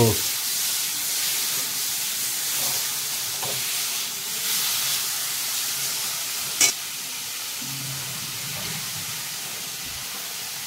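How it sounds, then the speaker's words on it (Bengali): Prawns coated in salt and turmeric frying briefly in a pan, a continuous bright sizzle with a few stirring scrapes and one sharp clack midway, moderately loud and without speech. "নুন হলুদ মাখিয়ে রেখেছি, একটু ভেজে নিই, বেশি ভাজবো না।"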